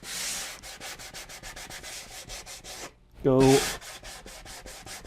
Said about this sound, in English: Now I'm going to hit this with my block sander.